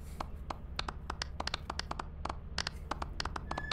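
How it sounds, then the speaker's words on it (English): Several people clap their hands over Lethal Company voice chat, giving a scattered, uneven run of sharp claps that sounds somewhat like thin crowd applause, close and fairly loud with no talking. "If we all clap, does it sound like a crowd applause?"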